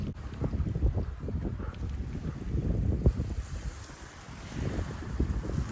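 Gusty wind blows outdoors around a big boulder near Quartzsite, buffeting the microphone in uneven low rumbling bursts across the whole stretch.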